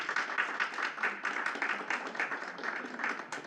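A room full of people at a Board of Education meeting applauds steadily, dense overlapping hand claps sustained throughout at moderate distance with no talking over it.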